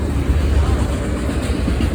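A BNSF freight train rolls past close by with a steady low rumble and rhythmic clickety-clack of wheels on the rails, continuous throughout the short stretch.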